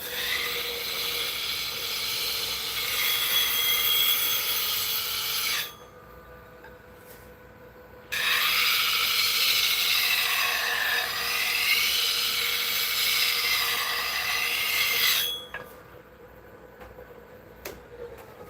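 A walnut crotch bowl spinning on a lathe under a carbide-tipped bowl gouge, a loud whining, buzzing cut in two long passes separated by quieter pauses.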